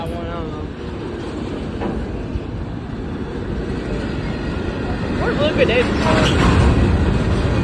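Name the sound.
freight train with Cowan pusher locomotives passing through Cowan, Tennessee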